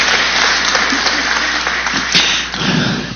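Audience applause at an education forum, sustained dense clapping from a seated crowd, fairly loud and even, with a few louder claps near the end and no speech over it.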